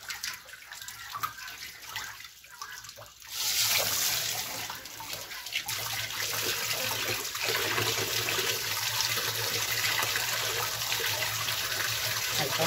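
Water from a tap pours through a pig intestine being cleaned, a steady close rushing flow that swells louder after a few seconds and keeps running without talk.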